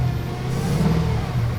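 A BMW E36 drift car's engine revs loudly and close, a throaty mid-pitched drone that swells and rises briefly.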